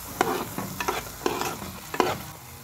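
Breakfast cream and a mixture being stirred in a frying pan: four or five scraping strokes come in bursts over a soft, steady sizzle, close and clear, with no talking.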